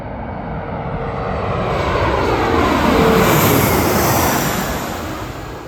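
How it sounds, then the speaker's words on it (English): A fixed-wing airplane passes low overhead on its landing approach, a broad, loud engine roar that swells to a peak and then recedes. "Here's the plane landing."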